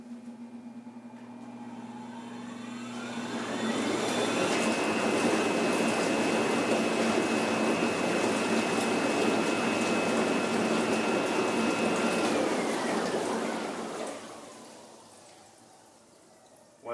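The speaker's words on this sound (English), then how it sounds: "To turn the jets on and create the whirlpool agitation, we push the Aqua Air button" Whirlpool spa jets in an alcove bath start up with a rising pump whine, then churn the water in a steady loud gushing roar for about ten seconds before winding down to quiet.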